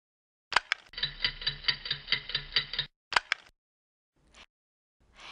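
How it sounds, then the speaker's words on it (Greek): A ticking clock sounds alone at close range, a steady run of about ten even, sharp ticks lasting roughly two seconds, framed by brief bright electronic chimes before and after. "Είναι ένα ρολόι που κάνει τικ-τακ."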